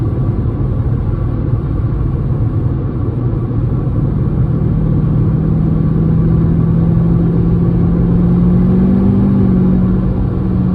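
A Mercedes C55 AMG with its M113 engine, swapped to a six-speed manual, cruises steadily in sixth gear at low revs, making a continuous deep rumble with a smooth, slightly rising drone and no voices.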